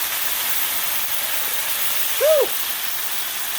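Diced tomatoes from two cans hit a hot garlic pan and steam with a steady, even hiss throughout, and a voice gives a short exclamation partway through.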